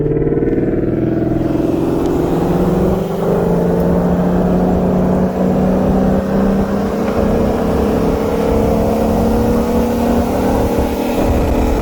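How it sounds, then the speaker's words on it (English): A 2018 Audi RS3 with bolt-ons on E85 accelerates hard in second gear from 50 mph, rolling against a 2021 Shelby GT500, its loud engine climbing steadily in pitch through a long continuous pull, close and without talk. "I'm in the Audi RS3, and the first roll with the GT500 is going to be from 50 miles an hour"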